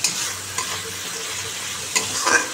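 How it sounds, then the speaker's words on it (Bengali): Spice paste with cumin powder, salt and turmeric sizzles steadily in a pan while being stirred, a continuous close frying hiss with a few brief scraping strokes and no talking. "মশলাটা কষাচ্ছি, এর মধ্যে জিরের গুঁড়ো দিয়েছি"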